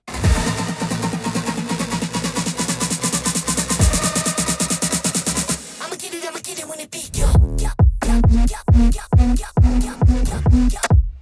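Chopped electronic build-up samples in a dance track stutter and slip slightly off the beat, a dense buzzing stretch giving way to a brief filtered gap and then sharp, rhythmic stabs.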